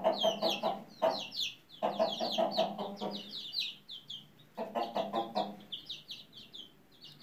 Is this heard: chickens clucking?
yes